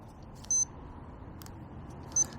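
A kitchen-style timer gives two short, high electronic beeps about a second and a half apart while being set, with soft clicks between them over a quiet room hum.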